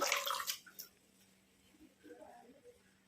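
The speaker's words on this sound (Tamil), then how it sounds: "இப்போ நம்ம இந்த செம்பருத்தி பூக்களை நல்லா அலசிட்டு நல்லா பிழிஞ்சு விட்டுக்கோங்க" Hibiscus flowers being rinsed in water make a brief burst of close splashing and swishing at the start, then fade to quiet with only faint handling sounds.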